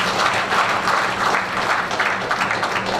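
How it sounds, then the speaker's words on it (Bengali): An audience at an evening program applauds a second time after thanks to the guests. The clapping is loud and continuous, a full crowd close by, with no voices over it. "একটা এগেন হাততালি হবে"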